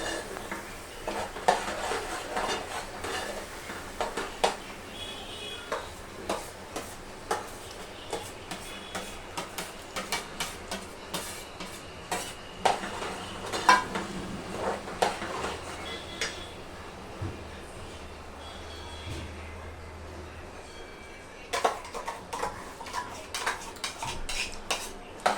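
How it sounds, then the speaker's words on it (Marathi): Ground coconut-tomato masala with whole coriander, ginger and garlic is sautéed in oil for a Malvani fish curry, with continuous clinking and scraping of a metal spoon against the pan over a faint sizzle, brief pauses between bursts. "या मसाल्याला तेलावरती खूप छान परतून घ्यायचं।"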